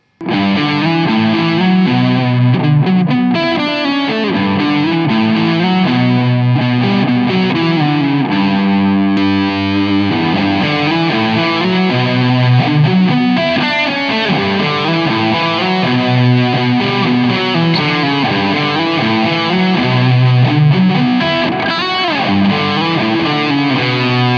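A loud, distorted electric guitar with a Fernandes Sustainer pickup plays sustained single-note melodic lines, with notes ringing on and swelling without fading.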